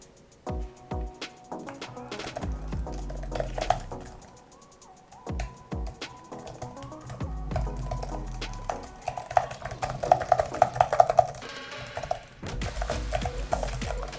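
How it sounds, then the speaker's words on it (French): Quiet, soft clicking of MSI Prestige 14 laptop keys in irregular bursts, pausing between runs of typing, close and muted. "Au niveau du bruit des touches, eh bien je vous laisse écouter, vous verrez que c'est plutôt silencieux"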